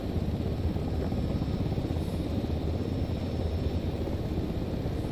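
Helicopter in the military sim game Arma 3, a steady loud rotor and engine drone filling the low end without a break, with no voices over it.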